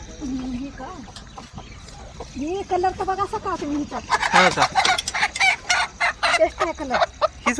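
Village hens cluck close by in a rural yard, rising into busy overlapping squawks and calls in the second half while people talk over them.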